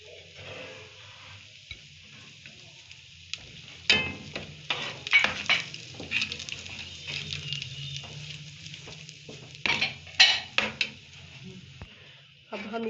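Coconut stirred into a pan of roasted ingredients for alsi pinni, flaxseed sweets: close, irregular scraping and rustling strokes with soft patters, fairly quiet, a few sharper bursts midway, no talking.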